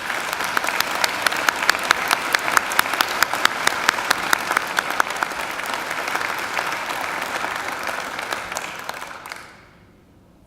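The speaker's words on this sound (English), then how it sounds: "Let's give them a round of applause" A graduation ceremony audience applauds for about nine seconds, dense clapping with sharp individual claps standing out, then the applause fades quickly into near silence.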